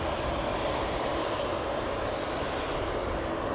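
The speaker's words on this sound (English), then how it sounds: "I'm also hearing a helicopter hovering above Schiphol Oost." A hovering helicopter drones steadily at moderate distance near Amsterdam Schiphol Airport, an even continuous rumble with no voices.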